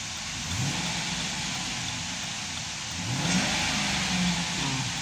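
A car engine revs up to around 3000 RPM during a check of a vehicle with a squeak over humps, the steady mid-range engine drone rising in two surges, with no talking.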